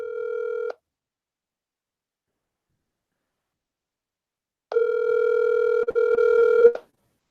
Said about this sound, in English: Phone's ringing, folks.